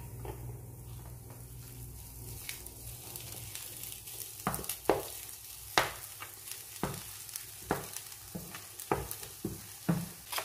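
Mashed potato fries with turmeric in a pan under a low sizzle, while a spoon scrapes and knocks in a fairly regular rhythm that grows louder and more frequent.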